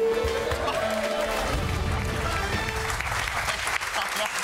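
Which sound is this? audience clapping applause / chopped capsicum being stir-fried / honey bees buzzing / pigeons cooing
audience clapping applause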